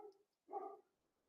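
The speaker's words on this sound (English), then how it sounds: "I think the next door neighbor dog approves." A neighbour's dog gives a single short bark in the distance, faint against a quiet indoor room, preceded by a softer muffled yip.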